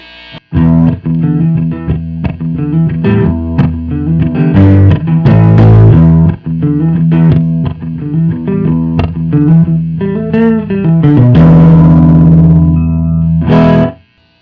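A 1983 Peavey Mystic electric guitar on its neck pickup plays a loud run of chords and notes through distortion and chorus effects, warm and sustained throughout with no talk.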